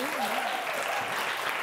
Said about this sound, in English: Give her a big round of applause to Mimi.